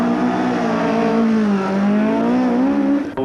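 Race car fitted with a 3.3 litre Cosworth DFL engine at a seaside speed trial, a loud sustained engine note with a slowly rising and falling pitch, cutting off abruptly near the end.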